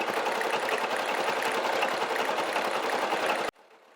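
Brother SE1900 embroidery machine stitching an Easter basket design: a fast, steady mechanical needle whir, close and continuous, that cuts off abruptly near the end.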